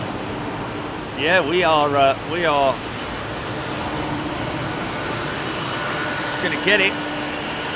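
A United airliner's jet engines roar steadily while it lines up on the runway at London Heathrow, a continuous broad rumble with people talking briefly over it nearby.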